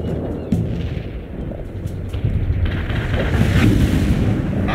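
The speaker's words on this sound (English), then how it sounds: "Artillery firing." Artillery in a video game fires in a rumbling series of deep booms and crackling blasts, building steadily louder over a dense battlefield roar.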